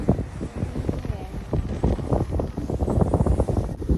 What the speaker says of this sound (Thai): ลมแรงมากนะคะ